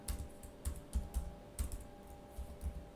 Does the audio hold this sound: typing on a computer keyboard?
yes